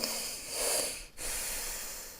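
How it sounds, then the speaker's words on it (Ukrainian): A deep, breathy inhale drawn during a morning exercise routine, a steady rushing hiss that cuts off briefly before another breath follows, close and alone with no talk. "Тепер додамо дихання. Вдих."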